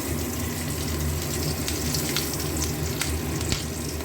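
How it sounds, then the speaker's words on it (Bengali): Nigella seeds and green chillies sizzling in hot oil, a steady, close, continuous hiss and crackle with no pauses. "এবার এর মধ্যে ফোড়ন দেব কালো জিরে, বেশি দেবো না, অল্পই দেবো"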